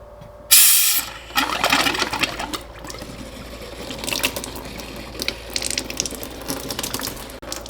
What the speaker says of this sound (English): I'm going to turn on the faucet.